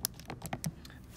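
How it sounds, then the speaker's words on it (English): A calculator keypad gets tapped in a quick series of soft, close clicks, about eight light presses in just over a second. "When I type all that in the calculator"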